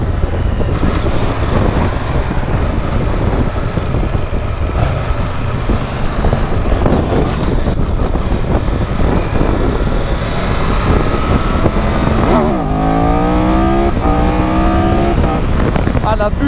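A 2022 Triumph Tiger 1200 motorcycle pulls away cleanly from low revs, its engine note climbing steadily under loud, constant wind rush, with a brief rising shift in pitch near the end.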